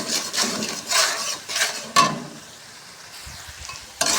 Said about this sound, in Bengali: ভালো করে এখন মশলাটা কষাতে থাকবে।